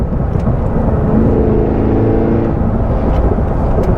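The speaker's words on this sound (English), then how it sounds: "Super aggressive exhaust." A 2022 Cadillac Escalade V driven hard, its engine and aggressive exhaust producing a loud, dense, continuous roar with a steady droning tone heard from inside the vehicle.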